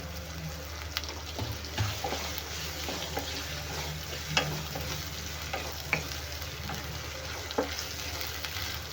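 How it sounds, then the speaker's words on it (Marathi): Chopped tomato fries in hot oil for a crab curry, giving a steady close sizzle broken by occasional scrapes and clinks of stirring, with no talking. "टोमॅटो छान तेलात नरम होईपर्यंत आपल्याला तो शिजून घ्यायचा आहे"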